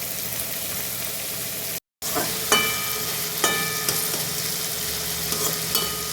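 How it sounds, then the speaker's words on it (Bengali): Finely chopped onions fry in hot oil for a chicken masala, giving a steady close sizzle broken by a brief dropout and a few sharp clinks of stirring. "পেঁয়াজগুলোকে যত মিহি মিহি করে কাটা হবে তত তাড়াতাড়ি ফ্রাই হবে।"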